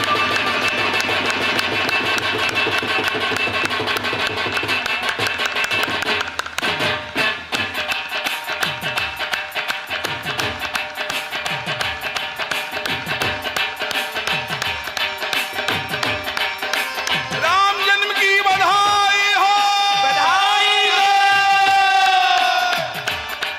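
An audience at a Shrimad Bhagavat katha religious discourse claps with both hands in a steady rhythmic unison beat, loud and sustained, with singing rising over the clapping near the end.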